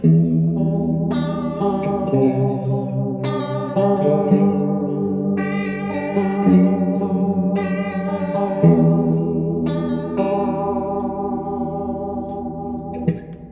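Strummed electric guitar chords ring out one after another, each sustained with a shimmering, swirling, doubled tone and a long decay.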